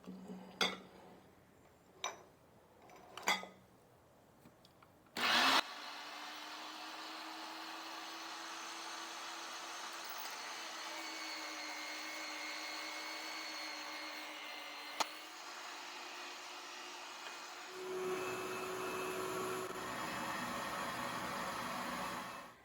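Chickpeas being ground in a food processor: a few light clinks, then a loud, steady whirring motor roar that runs for about seventeen seconds and grows harsher near the end.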